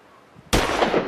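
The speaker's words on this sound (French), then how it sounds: "Un coup de feu!" A single sudden gunshot cracks out loud and close, cutting into near-silence and leaving a dense, noisy tail for about half a second.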